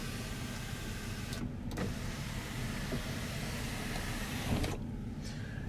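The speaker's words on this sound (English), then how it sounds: "and your sunroof" The sunroof motor of a 2004 Ford Explorer Limited with the 4.0 L V6 runs in a steady, close electric whir inside the cabin, with a couple of brief clicks and thumps as it moves.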